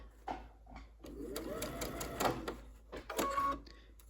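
Sewing machine stitching curves in fabric, short bursts of rapid needle clatter with brief pauses between, close and fairly quiet, no speech.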